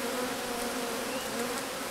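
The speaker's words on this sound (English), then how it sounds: "I'm going to shake these bees in" Honey bees being shaken into a nuc box, a dense, steady buzzing swarm hum, close and continuous.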